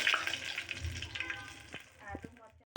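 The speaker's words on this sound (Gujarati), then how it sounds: "મીઠો લીમડો નાખીશું" Curry leaves drop into hot oil already holding mustard seeds, cumin and asafoetida for a khichdi tempering, giving a bright crackling sizzle that gradually fades, with a few sharp pops and a faint voice nearby.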